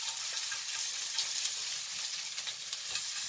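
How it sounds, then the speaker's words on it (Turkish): Köfte meatballs frying in a pan as they are flipped, a steady, dense sizzle with crackling spits throughout, close and fairly loud, with no voices. "Yani sürekli köfteyi çevirerek de pişirebilirsiniz."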